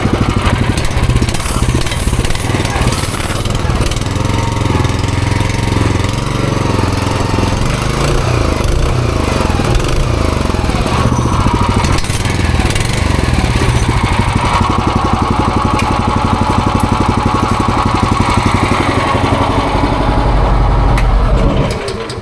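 Small engine with a FlexRing belt fitted, held under throttle as the belt spools up: a loud, steady, close mechanical roar with a rough buzzing drone that keeps going without a break, with no speech.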